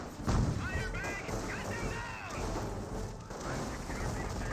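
Squads trade rifle and submachine-gun fire in a Company of Heroes battle, sharp cracking shots scattered across a dense, busy mix of game sounds and distant combat noise.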